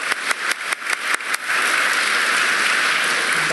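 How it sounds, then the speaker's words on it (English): An audience applauds a debate timekeeper, starting with a few separate claps that quickly swell into dense, sustained clapping, loud and close. "a round of applause for our great timekeeper."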